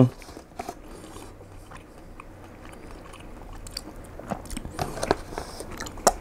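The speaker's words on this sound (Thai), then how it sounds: "เดี๋ยวเดี๋ยวขอกินคำนี้" Someone eating Thai sun-dried pork: close, crunchy bites and steady chewing that grow busier toward the end, with no clear speech.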